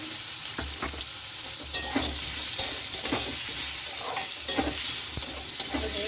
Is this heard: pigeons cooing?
no